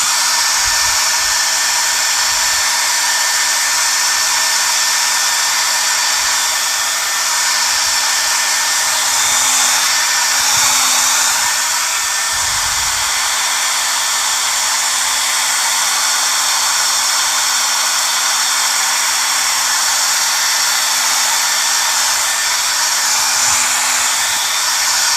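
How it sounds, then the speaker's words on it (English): A hair dryer runs steadily at close range for the whole stretch, drying a freshly painted landscape in the style of Qi Baishi, a loud continuous whir with a faint hum beneath and no talking. "So I'm just going to do a quick little blow dry"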